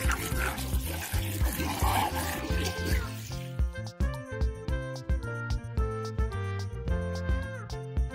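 Water splashes and pours over a toy crocodile for about three seconds, loud and close, then gives way to bouncy music.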